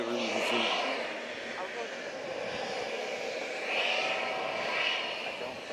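A Swiss airliner taxiing at JFK airport, a steady broadband jet-engine roar that swells slightly twice and holds at moderate distance, with faint voices nearby.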